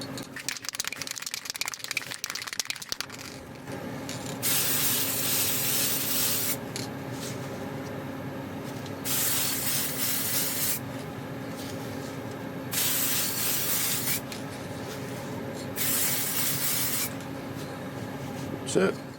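A spray can paints parts of a steampunk kraken gauge kit, such as a gear's teeth and a pointer, in several long hissing bursts with short pauses between them, close to the microphone.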